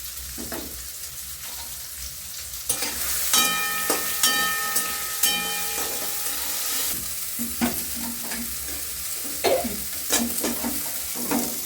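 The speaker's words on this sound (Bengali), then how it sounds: "সোয়াবিনটা ভাজা হয়ে গেছে" Soybean chunks fry in a pan with turmeric and salt, a steady sizzle broken by repeated scraping stirs and clinks, with a brief high-pitched tone ringing partway through.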